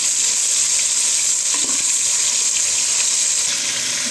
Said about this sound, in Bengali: একটু চুলার জাল হাই দিয়ে একটু লাল করে ভেজে নেব।